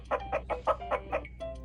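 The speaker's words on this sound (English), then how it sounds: "H is for hen." A hen clucking, played through the speaker of a VTech Write and Learn touch tablet in a zoo animals letter game: six quick rhythmic clucks followed by a short tonal electronic chime, with no talking.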